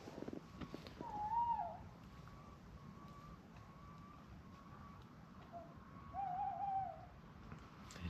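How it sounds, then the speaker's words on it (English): An owl hoots at night outside a hot tent on a backpacking trip, two faint wavering calls several seconds apart over a low steady background hiss. "There's the owl."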